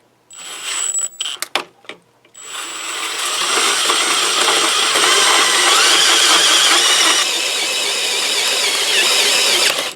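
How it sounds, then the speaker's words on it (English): A drill with a hole saw cuts a hole at slow speed. A few short bursts and clicks come first, then a loud, steady grinding whine runs close by for about seven seconds. "Let the hole sawing begin."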